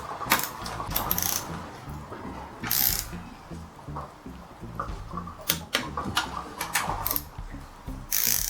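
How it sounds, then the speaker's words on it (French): A torque wrench ratchets in short bursts of clicks while a buggy's rear train is tightened to torque. Quick clicking runs separated by pauses sound close and fairly quiet, with faint mechanical handling between them. "serrage au couple."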